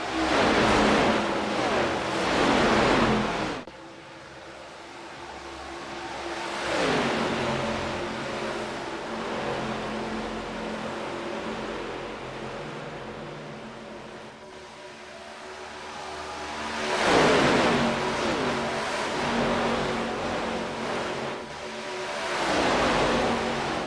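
Race car engines roar past in an ARCA race, loud surging sweeps rising and falling as cars pass by, with a continuous engine drone between passes and no voices.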